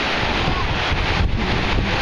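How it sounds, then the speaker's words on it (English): Ocean waves breaking on a beach, a loud steady rush of surf heavily mixed with wind noise on the microphone, continuous over a couple of seconds. "And the waves aren't too big."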